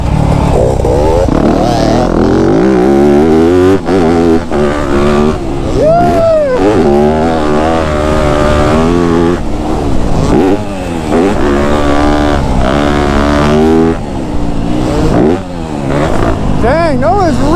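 A Yamaha YZ250F dirt bike engine revs hard throughout while being ridden, loud and close with rising and falling pitch sweeps as the throttle opens and closes, and voices talk over the engine noise.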